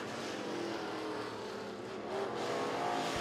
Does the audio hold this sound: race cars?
yes